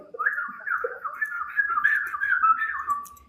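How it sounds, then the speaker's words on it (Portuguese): Human whistling standing for the voice of the orisha Ossaim, a warbling, bird-like melodic whistle sustained for about three seconds with small pitch slides, close and clear. "ele se manifesta através do assobio. Então você ouve."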